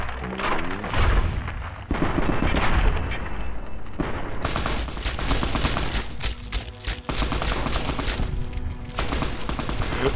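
Gunfire in the game Fallout: New Vegas, with dense, continuous bursts of shots and thumps that run loud through the whole stretch and hit hardest after the midpoint.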